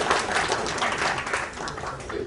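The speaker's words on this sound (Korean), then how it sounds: "박수로 맞아주세요." An audience at a parliamentary forum in the National Assembly members' office building applauds as guests are introduced, a short burst of steady indoor clapping that eases slightly before picking up again.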